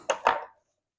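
A knife cuts down along the bone of raw chicken drumsticks, giving two quick close cutting knocks in quick succession that fade into silence.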